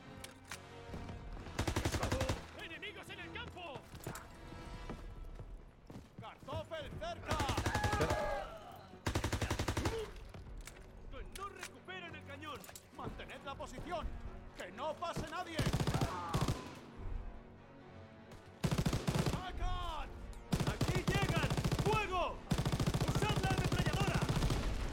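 Call of Duty WWII game gunfire crackles in repeated loud bursts of rifle and machine-gun fire, separated by brief lulls, with a voice talking over parts of the battle noise.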